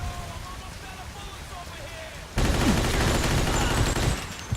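Tommy gun fire in Mafia 2, a dense crackling burst of rapid shots erupting suddenly midway and continuing loud over faint background sound and murmured speech.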